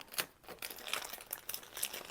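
A yarn package is opened by hand, with close, quiet crinkling and rustling of wrapping that comes in short irregular bursts, and no one talks.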